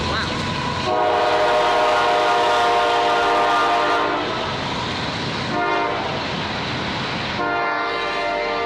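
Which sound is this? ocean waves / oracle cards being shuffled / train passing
train passing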